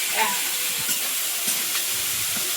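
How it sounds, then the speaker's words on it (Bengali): Steady oil sizzling and hissing from chopped onions, green chillies and a little garlic frying in a wok, a continuous bright crackle with occasional soft stirring sounds, close by and without talk. "পেঁয়াজ লঙ্কা ভাজা হয়ে গেছে"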